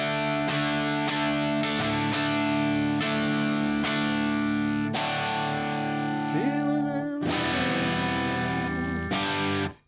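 An electric guitar through heavy overdrive and distortion rings out in sustained, thick chords, each strum struck hard and left to ring, with a brief bending phrase near the end before an abrupt stop.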